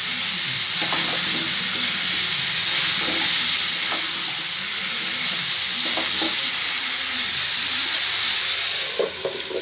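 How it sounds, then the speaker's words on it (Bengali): Pumpkin pieces fry in a pan with a continuous loud sizzling hiss, while a spatula stirs and knocks against the pan in scattered, irregular bursts throughout; no talking. "এর মধ্যে কুমড়োগুলো আমি সব দিয়ে দেবো। ভালো করে একটু নাড়াচাড়া করে আমি ঢাকনাটা দিয়ে দেবো।"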